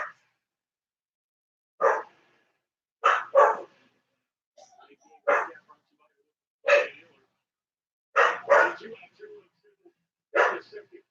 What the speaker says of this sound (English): the two noisy dogs